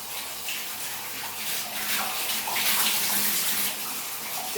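Water runs into a bathtub while a cleaning brush is rinsed under it, a steady close splashing gush with small shifts as the brush moves through the stream, and no talking.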